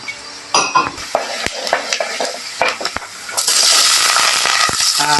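Whole spices fried in hot oil at the start of a crab thokku, with loud stirring clatter and crackling sizzle that builds into a steady hiss over the last couple of seconds, no talk.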